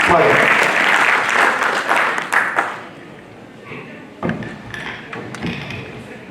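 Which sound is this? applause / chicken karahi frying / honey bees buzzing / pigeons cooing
applause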